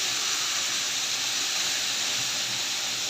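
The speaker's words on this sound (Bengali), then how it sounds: "আমি একটু হলুদের গুঁড়া, মরিচের গুঁড়া, ধনিয়ার গুঁড়া দিয়ে দিই, আর একটু লবণ দিয়ে এগুলো ভালো করে আমি ভেজে নিব।" Long beans and potatoes fry in oil with turmeric, chili and coriander powders and salt, giving a steady, loud, close hiss that holds evenly throughout without a break.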